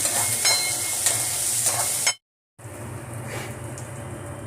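Onions with a pinch of salt sautéing for broken wheat upma, giving a bright, steady frying hiss that cuts out into total silence for a moment, then resumes slightly softer, with no talking.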